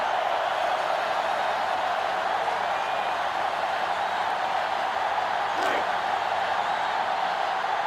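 A stadium crowd roars continuously in the NCAA Football 2005 video game, a dense, steady wall of cheering with a brief whistle-like sweep partway through, while commentary voices talk over it.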